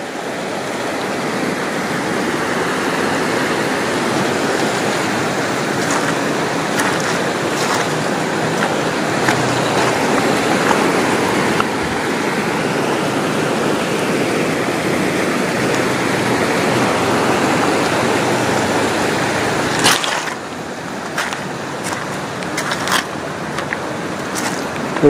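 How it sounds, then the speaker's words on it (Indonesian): Heavy rain pours steadily outdoors as a dense, loud, continuous hiss and rush lasting throughout, with a brief dip near the end followed by scattered sharper patters. "Tuh, hujan itu gede banget."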